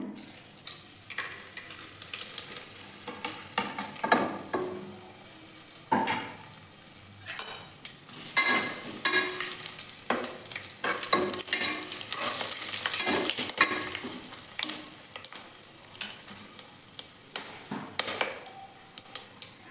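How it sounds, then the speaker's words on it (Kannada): Whole spices sizzle in hot oil in a pan for chicken biryani, with a steady crackling fry and repeated stirring scrapes and taps throughout, heard up close and with no talking. "ಇವಾಗ ನೋಡಿ, ಎಣ್ಣೆ ಕಾದಿದೆ. ಇವಾಗ ಇರೋ ಮಸಾಲ ಐಟಮ್ ಎತ್ತಿಟ್ಕೊಂಡಿದ್ವಲ್ಲ ಅದನ್ನೆಲ್ಲ ಇದರೊಳಗಡೆ ಸೇರಿಸೋಣ."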